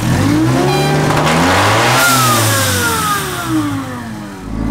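A car engine fitted with a cheap junkyard supercharger and a blow-off valve is revved hard, loud and close, climbing to a high whine and then settling back through a couple of smaller revs.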